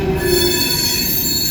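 Steel wheels of an empty CSX coal train squeal loudly and continuously as the cars creep past Sykesville Station, a sustained high metallic shriek over rumbling rail noise, close by with no talk.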